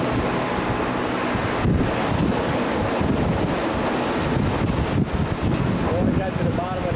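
Floodwater after Hurricane Katrina rushing through a steel levee wall, a loud, continuous roaring wash mixed with heavy wind buffeting.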